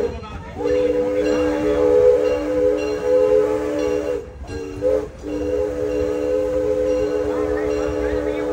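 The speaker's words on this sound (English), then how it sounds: "if you look closely, you'll see a green train in there right now." A green train rolls past at Six Flags Over Texas, giving a steady mechanical hum and tonal whine with a brief dip partway through, while a voice talks over it.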